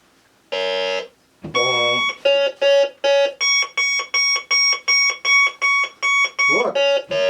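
Quicksilver metal detector giving tone ID: a loud, near electronic burst, then a rapid train of about a dozen pulsed beeps shifting between pitches, buzzy and alarm-like, with no talking.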